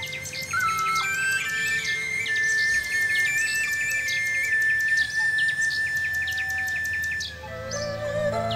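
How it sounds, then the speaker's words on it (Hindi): A nightingale sings a long, sweet whistled note over a soft musical background, then breaks into shorter chirps and trills, clear and close. "वहां से जाते वक्त उन्हें बुलबुल की मधुर आवाज सुनाई दी"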